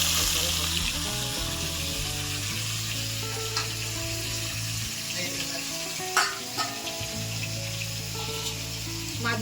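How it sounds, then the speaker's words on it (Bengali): Pieces of a large boal fish fry in hot oil with a loud, steady sizzle that carries through the whole stretch, plus a few light clatters of utensils and no talking. "তেলটা গরম হয়ে যাচ্ছে এবার মাছগুলো দিয়ে দেবো"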